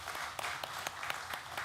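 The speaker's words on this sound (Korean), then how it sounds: "우리 잘 다녀오라고 박수하겠습니다" Brief, quiet applause from a church congregation during a Sunday service, a steady patter of clapping with a few sharper claps standing out.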